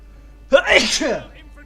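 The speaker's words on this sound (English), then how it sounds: "I believe this is the first time I sneezed on my Let's Play." A single loud, close human sneeze bursts out after a moment of near silence, a sharp intake followed by the explosive release, then fades away.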